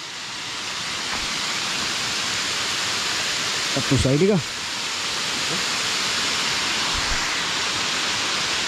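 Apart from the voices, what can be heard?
waterfall in Makandawa rain forest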